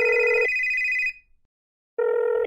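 A mobile phone rings nearby with a bright electronic tone, sounding in two sustained bursts separated by a short silence, loud and clear with no talking.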